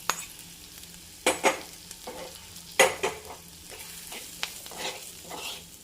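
Heated spice powders for a fish curry sizzle and fry in a pan while being stirred, with several sharp scraping strokes over a steady close sizzle; no talking.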